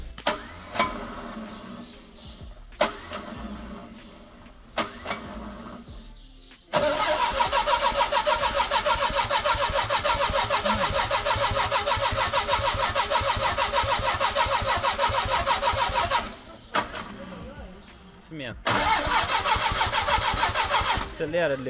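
Engine of a car left abandoned for years cranks in several short bursts, then catches and runs loudly with revving for about ten seconds, stalls briefly, and starts again, with voices at times.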